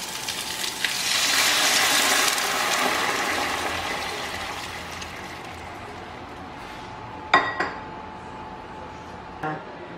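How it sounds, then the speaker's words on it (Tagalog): Rice washing water poured into a large pot for a Filipino pesa-style fish dish with maya-maya, a steady splashing pour that swells early then tapers, followed by a couple of sharp pot clanks. "Nilalagay na po natin si hugas bigas."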